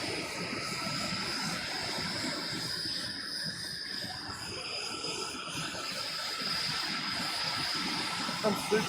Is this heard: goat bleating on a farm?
no